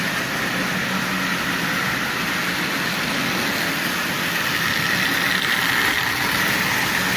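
Marx Commodore Vanderbilt tin toy train with a traction tire running on track, a steady rolling whir and faint metallic hum, continuous and fairly close with no breaks.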